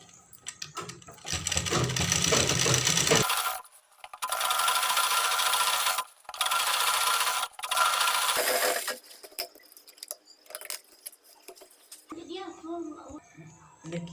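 Stitching a double seam on a four-panel petticoat's waistband, a sewing machine whirs close by in several sustained runs separated by short stops, followed by quieter handling of the fabric.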